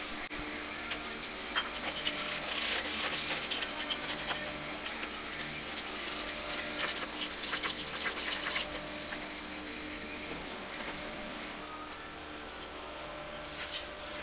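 A cotton waste rag is wiped over a carburetor part from a Honda Shadow 600 dual carburetor, giving faint, continuous scratchy rubbing and light patter up close, with a quiet background hiss.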